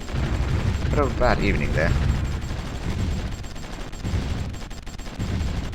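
Artillery fire in the strategy game Supreme Ruler Ultimate, a continuous low rumble of distant booms and gunfire running steadily throughout, with someone talking over it briefly.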